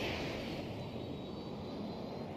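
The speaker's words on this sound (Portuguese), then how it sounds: "Opa, dois jatos." Jet aircraft flying overhead in the video game Battlefield 2042, a steady broad engine roar holding at constant loudness throughout, with a faint high whine on top and no talking.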